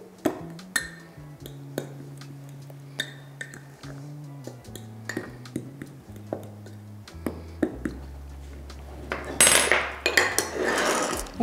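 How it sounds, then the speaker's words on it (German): A fork stirs baking powder into flour in a bowl, giving a run of light, irregular clinks and taps against the bowl over a soft tonal background. "Das mischt ihr einmal kurz mit einer Gabel unter."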